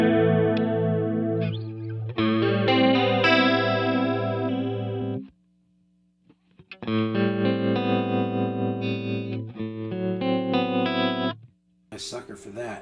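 Electric guitar through a Line 6 Helix with chorus effect and a touch of plate reverb, playing sustained chords in two phrases separated by a short pause, shimmering and wide, with no voice over it.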